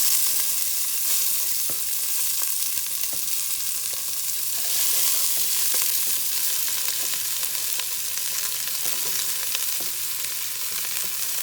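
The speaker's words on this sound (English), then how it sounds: "So we're just going to go ahead and get these items in there and start to saute them" Vegetables sautéing in olive oil in a stock pot over medium-high heat, garlic with skins among them, give a steady, loud broadband sizzle lasting the whole stretch, with scattered stirring clicks and small pops and no talking.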